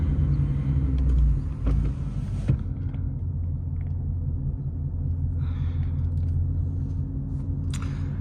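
A Ford Mustang GT with a 5.0 engine driving in traffic, a deep low rumble heard from the cabin that swells and drops with a downshift early on, then settles into a steady drone.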